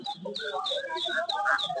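Desi chickens clucking at a busy poultry market where ducklings and chicks are also sold, short close clucks mixed with overlapping chatter of people nearby.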